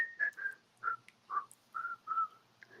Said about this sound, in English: were you just whistling Lullaby of Birdland?